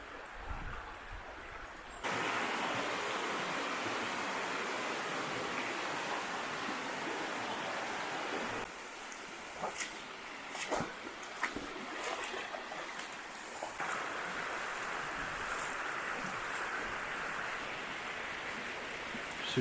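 Water pours at the Dederkoy waterfalls, a loud, steady broadband rush heard up close that swells after a couple of seconds, with brief knocks and clatters over the constant flow partway through.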